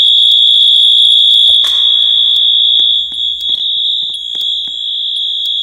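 A Wheelock AS fire alarm in a bank blares in continuous mode, a loud, unbroken high-pitched electronic tone close by, with a few clicks and brief rattles underneath.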